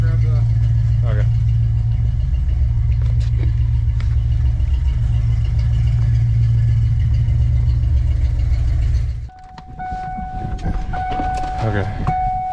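A car engine idles with a steady low rumble close by for most of the stretch, then cuts out abruptly, leaving quieter background with a sustained tone.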